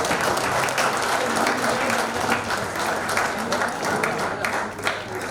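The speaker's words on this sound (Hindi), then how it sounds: "इस तालियों का इक्वली हकदार भाई राहुल भी है" An audience at an organizational workshop claps steadily and densely for the full stretch, a sustained wash of applause.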